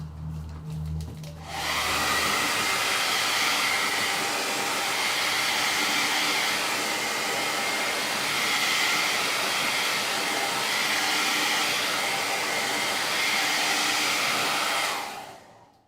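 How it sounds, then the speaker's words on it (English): A blow dryer runs steadily on a stencil craft project, switching on after a brief pause and holding a loud, even whoosh for about fourteen seconds before cutting off. "I need to spend 1 minute on the blow dryer for this guy"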